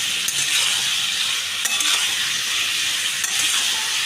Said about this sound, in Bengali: এবার আমি এটাকে ভালো করে কষিয়ে নিচ্ছি।